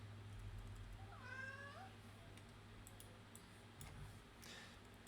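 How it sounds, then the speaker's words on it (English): A hungry cat gives one drawn-out meow, faint and somewhat distant in the background of a quiet room with a low steady hum, followed by a few light ticking sounds. "Might hear a hungry kitty in the background."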